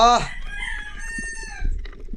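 A rooster crows once, close and loud, a drawn-out call that trails off, followed by faint low rustling.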